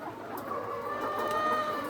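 Chickens offered for sale cluck steadily, with a rooster-like call rising through the continuous fowl chatter, close and fairly loud with no talking.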